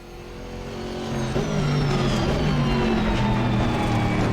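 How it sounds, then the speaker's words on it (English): A V8 Aston Martin in a racing video game builds engine note while accelerating, with track surface noise and transmission whine layered in, a steady rising drone, loud and continuous, no voices. "we've got the engine note, we've got all the track surface noise, it's all there, the transmission whine"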